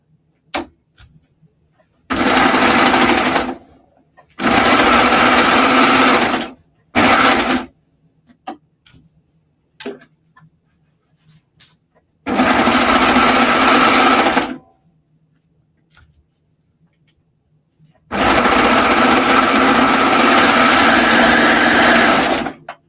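Sewing machine stitching fabric for a tank top, running in four loud steady bursts of several seconds each, separated by quiet pauses with faint handling clicks.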